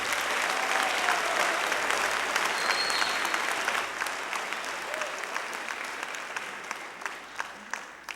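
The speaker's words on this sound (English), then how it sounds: "Could you please give them one more round of applause before we play our last song?" Audience applause at a junior high school spring band concert, with a dense, sustained clapping that fills the room and slowly thins and fades toward the end.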